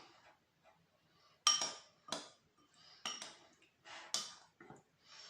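A utensil stirs a shrimp marinade of garlic, pepper and lemon juice in a bowl, giving a run of irregular clinks and scrapes against the bowl. The close, sharp taps come in bursts with short pauses and no talk.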